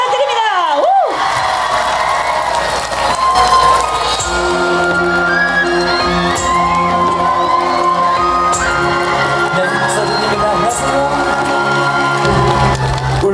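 Concert audience in Ulsan cheers and applauds as a singer is welcomed to the stage, a loud, sustained crowd roar with shouts, followed by music starting underneath.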